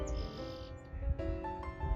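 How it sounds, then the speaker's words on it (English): A sparrow gives a few short, close chirps in quick succession outdoors, bright and clear over light background noise. "Sparrow."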